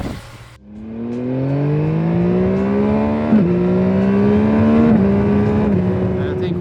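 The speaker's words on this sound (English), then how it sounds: "It's still a mighty, powerful, torquey, revvy, great sounding motor." A new Yamaha MT-09 motorcycle engine revs loud and close, its pitch climbing steadily with brief dips before rising again.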